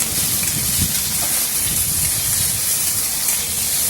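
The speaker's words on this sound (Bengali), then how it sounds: "আলুগুলোকে আমি তেলের মধ্যে দিয়ে দেবো" Potato pieces dropped into hot oil for a fasting-day sago pulao give off a steady, loud, broadband sizzle that holds evenly for the whole stretch, with no voices over it.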